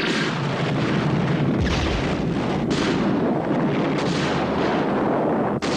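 Dense, continuous booming barrage of X tracers firing in the Star Fleet animated series, loud and unbroken with a few sharper bursts, no talking over it.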